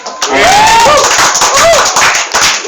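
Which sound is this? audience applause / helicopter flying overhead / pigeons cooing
audience applause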